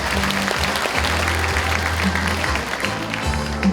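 An audience at a community talk concert applauds as guests are introduced, sustained clapping with a low steady hum running beneath it throughout.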